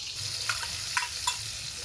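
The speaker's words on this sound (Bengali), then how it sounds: "আগে এই মশলাটা দিলাম ভাজা ভাজা করে নিই যাতে কাঁচা গন্ধটা না থাকে" Steady sizzling of a ginger, onion, garlic and green chilli paste frying in a pan, with a few soft clicks of stirring, no voices.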